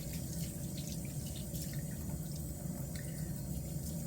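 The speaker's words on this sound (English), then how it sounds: "I do wash it off my fingers" Fingers are rinsed under a running tap, a faint, steady hiss of flowing water with slight splashing, continuous and even throughout, with no voices.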